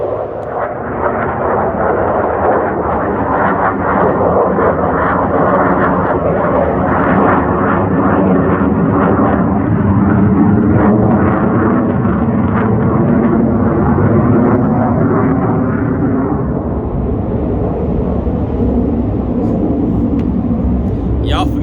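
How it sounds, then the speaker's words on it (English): Fighter jets roar overhead in a continuous, loud, broadband rumble that swells and slowly fades, dominating the scene outdoors. "Forgive the fighter jets."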